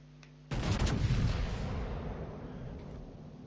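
Artillery in a naval video game fires at an enemy warship: one sudden heavy boom followed by a long rolling rumble that slowly fades.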